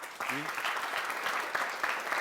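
Brief burst of studio applause from an audience at a live Burkinabe TV broadcast, clapping for the television director general, fairly faint and lasting about two seconds, with a voice over it.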